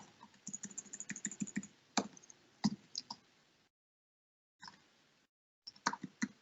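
Close, quiet clicking of a computer keyboard as an email address is entered, with quick bursts of keystrokes, a few heavier taps, and short silent pauses between groups.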